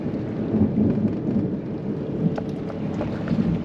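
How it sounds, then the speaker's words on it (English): Rumbling thunder from nearby lightning mixes with steady rain pattering on surfaces, a broad low roll persisting throughout with scattered sharper drops, fairly loud and free of speech. "So there's been some lightning super close to us"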